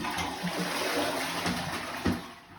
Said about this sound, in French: Un petit coup de chasse d'eau